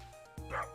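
Dog in the video game Stardew Valley giving a quick pair of short yipping barks, faint and brief, over a low steady background hum.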